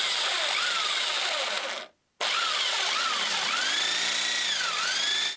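A drill bores a hole into a wooden stair top rail for a newel post connection, two loud whining bursts with wavering pitch separated by a short pause, close up.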